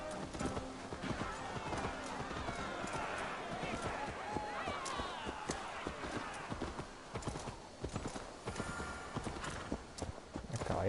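Horse hooves clip-clop steadily in Assassin's Creed Valhalla, a running rhythm of hoofbeats with occasional whinnies, heard up close under a man's speech.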